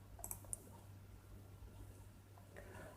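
A computer mouse clicks a few times in quick succession near the start to run a search, then a faint click later, heard up close over a low steady hum with no talking.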